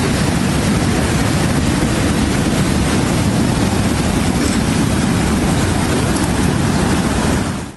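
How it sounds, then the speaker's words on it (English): A dense, loud, unbroken roar of heavy rain pouring down from a slow-moving storm in the Texas hill country, constant and close throughout, with no voices. "a slow-moving storm system unloaded a torrent of rain across the hill country"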